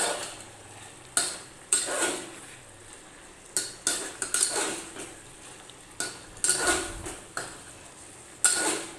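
A pumpkin and potato curry with Malabar spinach stems is stirred in a pot as its water cooks off. About a dozen sharp metal spoon clinks and scrapes sound close by at an uneven rhythm, with no voices.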